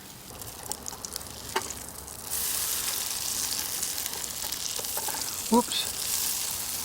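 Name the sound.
campfire muffins frying in an oily pan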